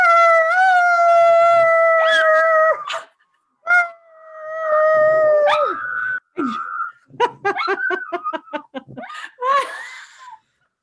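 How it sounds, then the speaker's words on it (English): A dog howls in long, loud, sustained wavering tones close to the microphone, pausing between howls and then breaking into choppy yips and whimpers toward the end. "she'll howl and she'll like go all the way out"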